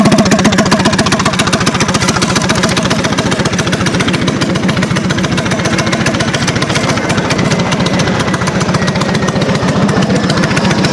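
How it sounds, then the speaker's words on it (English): A go-kart engine runs steadily after starting, with a loud, continuous, rapid chugging throb close by and no talk over it. "let's go ahead and start up the go-kart and see if I can do some one-handed driving"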